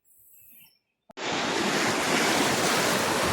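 After a moment of quiet, loud ocean waves rush in suddenly and roar steadily, a broad wash of surf close by on a shallow beach in Bagac, Bataan, Philippines.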